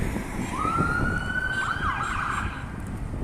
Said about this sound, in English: That's an ambulance coming.